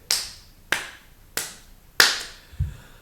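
Four slow, evenly spaced claps ring out sharp and close, each a crisp isolated smack with a short gap between, sarcastic in pace, with no voices around them.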